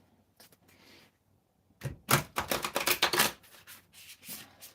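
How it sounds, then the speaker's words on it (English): Deck of tarot cards being shuffled by hand, a few soft riffles first, then a pause, then a louder run of rapid crisp flutters close up. "And again, I'm going to shuffle."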